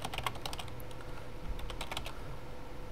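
Quick, light keystrokes on a computer keyboard tap out a short burst of typing at close range, with no voices.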